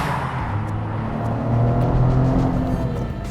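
A 2023 Toyota GR Corolla Core driving, a steady low engine and road rumble heard from inside the car that swells slightly midway through the short stretch, with no voices.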